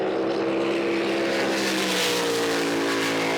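Supercharged big block engine of a racing boat at a drag boat championship at Windsor, a sustained loud roaring drone with rising pitch as it runs at speed, no talk.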